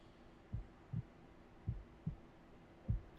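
A video game heartbeat pulses in slow, regular double thumps, about five beats, deep and close, with no talk over it.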